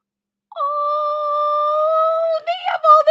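Puppies giving a long, steady, tonal howl-like whine that wavers and breaks into shorter yelps near the end, loud and close with no other sound around it.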